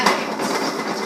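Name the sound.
shaking pot of popcorn kernels on stove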